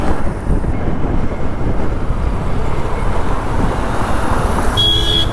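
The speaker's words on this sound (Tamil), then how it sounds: "டிராஃபிக் இங்கே ஈசிஆர்" Road traffic on the ECR in Chennai, heard from a moving motorbike as a continuous broad roar with buffeting wind noise, loud and steady throughout, no voices.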